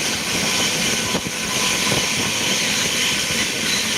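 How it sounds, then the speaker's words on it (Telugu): A fast train, around 130–140 km/h, rushes along with a steady, loud roar and hiss, wheels rumbling continuously throughout without pause. "ఈ ట్రైన్ చాలా వేగంగా పోతుందబ్బా"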